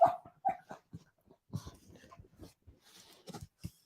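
Dog whining for attention indoors: several short, close, high whimpers and yips come in quick bursts, then fainter scattered whines and snuffles follow through the rest.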